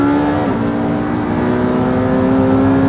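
Loud, close engine roar from a McLaren P1, Porsche 918 Spyder and Ducati 1199 Superleggera at a drag race launch, holding a steady high-revving drone throughout.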